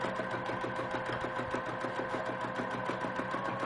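A sewing machine stitching a close scribble stitch fill on a quilt block, running at a fast, steady mechanical rhythm of repeated needle strokes, fairly quiet and close, with no talking.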